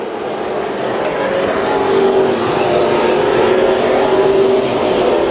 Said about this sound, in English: And here comes Huddleston on the lap traffic.